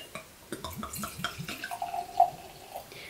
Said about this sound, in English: Now let's give this a pour.